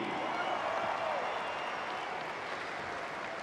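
A crowd applauding the race winner at a supercross event, a steady, even wash of clapping that stays fairly loud throughout and eases off slightly toward the end.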